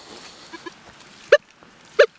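Two short, sharp electronic beeps from a metal detector signalling a buried target, about two-thirds of a second apart over faint background hiss.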